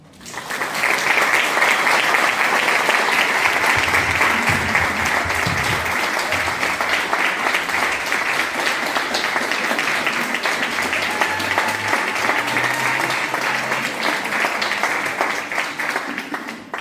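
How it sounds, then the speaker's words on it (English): Sustained audience applause follows a keynote speech at a Kappa Alpha Psi Achievement Foundation scholarship event, a steady dense wash of many hands clapping for about sixteen seconds before tapering at the end. "Can we please give Cana another round of applause?"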